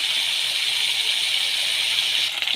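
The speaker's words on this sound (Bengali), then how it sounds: "মাছগুলো ভাজা হচ্ছে এখানে" Loitta fish coated in salt and turmeric frying in hot oil, a steady bright sizzling hiss that holds evenly from start to finish, close and fairly loud, with no voices.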